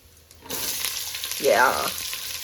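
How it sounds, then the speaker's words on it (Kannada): Onions dropped into hot oil with sizzling cumin seeds in a pan, a sudden loud burst of frying hiss that swells, then settles into a continuous close sizzle. "ಅಂಡ್ ಜೀರಿಗೆ ಕಾರಿದೆ. ಸೊ ಇವಾಗ ನಾವು ಆನಿಯನ್ ಹಾಕೋಣ."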